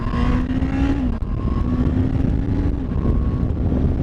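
A 2019 Honda CBR650R motorcycle's inline engine pulls hard under acceleration, its steady droning tone broken by quick dips as the quick shifter clicks through gears, with wind rushing over the microphone throughout.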